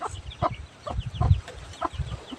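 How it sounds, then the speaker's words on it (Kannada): Chickens clucking near a farm plot, a few short bursts of calls spaced over a couple of seconds, with soft scratching and rustling underneath. "ಕೋಳಿ ಕೆರಿತವೆ."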